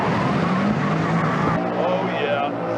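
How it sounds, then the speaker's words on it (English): American V8 luxury car driven hard, engine roaring with rising revs and tire squeal, a loud, close sustained drone that shifts pitch midway. "While also hooning a meaty V8 around like this."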